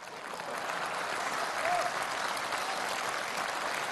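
Steady audience applause fills a comedy crosstalk performance, a dense, even wash of clapping that holds for the whole stretch without pause.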